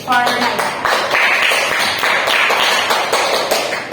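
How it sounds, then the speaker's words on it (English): Classroom applause during a microteaching lesson, a dense, steady patter of many hands clapping close by, filling the whole stretch with little variation. "Give a round of applause for Naya."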